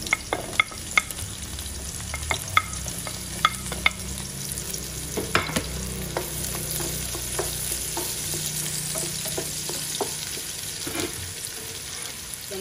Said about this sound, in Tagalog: So, magigisa na tayo ngayon.